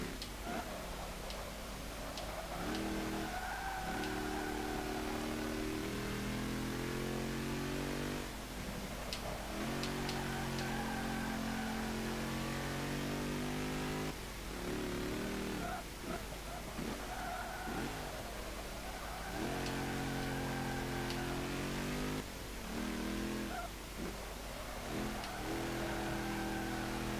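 A 1939 Maserati 8CTF race car in Forza 5 roars continuously, its engine climbing through repeated rising revs and dropping between gear shifts, loud and sustained throughout.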